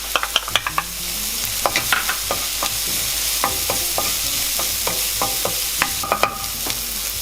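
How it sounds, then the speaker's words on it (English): Onions and garlic stir-fry in a hot pan with a constant close sizzle, while a spatula scrapes and taps against the metal in an irregular rhythm of sharp clicks. "now just give our onions a good stir fry for a minute or so"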